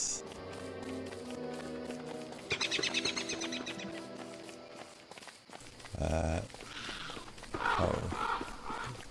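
A crow caws loudly in the game Don't Starve, several harsh bursts in the latter half over game music and footstep sounds.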